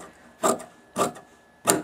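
Scissors cut scrap upholstery fabric for chair arm covers in three short, close rasping snips spaced evenly apart, with no talk.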